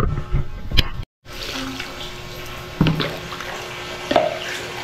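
Water runs from a tap while rinsing during cleaning, a steady splashing hiss with a brief cut partway through and a few small clunks and splashes over it.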